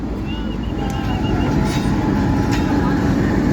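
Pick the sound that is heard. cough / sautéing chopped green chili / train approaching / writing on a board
train approaching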